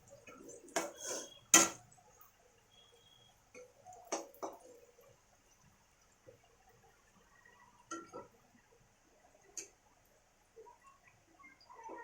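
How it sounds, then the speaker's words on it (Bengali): A utensil stirs chopped chili and onion in a pan, giving sparse, quiet clinks and scrapes with a few sharper knocks early on and long near-silent gaps between them. "এই লঙ্কা পেঁয়াজটাকে ভালো করে নাড়াচ্ছে"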